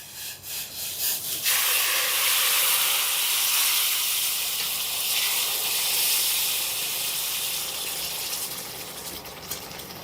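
Water poured onto roasted semolina for rava kesari makes a loud, close, sustained hissing sizzle that rises suddenly after a brief clatter and continues steadily, fading slightly toward the end.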